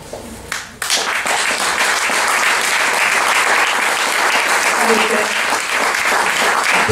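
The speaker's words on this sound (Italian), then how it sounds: "Applauso delicatissimo" Steady audience applause at an Italian book presentation, starting after a brief quieter moment and then holding a dense, even wash of clapping throughout, close and fairly loud.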